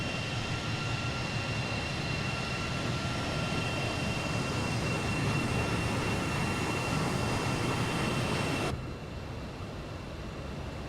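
A JustFlight F28 jet in a flight simulator game with its landing gear coming down: a loud, steady broadband roar of engine and airflow that drops suddenly near the end, with no voices.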